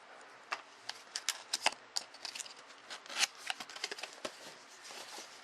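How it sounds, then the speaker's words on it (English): A rusty razor blade slicing through light cardboard packaging, with a close series of quick scraping, rasping strokes and small crackles in uneven bursts, loud and dry against a quiet background. "today's opening blade will be a rusty razor blade"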